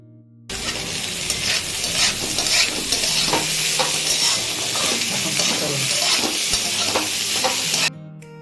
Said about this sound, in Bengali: এখানে উচ্ছে আলু পেঁয়াজ সব দিয়ে আমাদের প্রায় 15 মিনিট মতন ভাজা হয়ে গেছে।